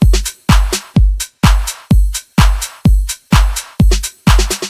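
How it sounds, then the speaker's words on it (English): Trap beat with a short accent snare layered over booming 808 kicks in a steady repeating pattern, each hit sharp and loud with a quick decay, several bars looping with no talking. "the last thing I did for the drums is this little accent snare that sounds like this."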